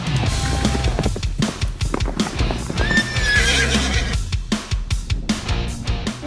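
Horses in Sumba, with steady clip-clop hoofbeats and a whinny, loud and close. The rhythm is dense and busy, and there is no talk.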